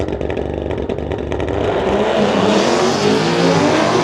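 Street-legal drag racing at a strip, with a 2009 Corvette lined up against a 2021 Mustang. Loud, close engine roar rises sharply as the cars accelerate hard and pull away, with revving that fills the whole short burst.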